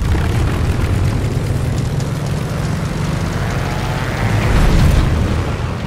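Propeller airplane in Call of Duty Vanguard's Midway 1942 mission, a steady, loud engine roar at full power during takeoff, swelling slightly near the end.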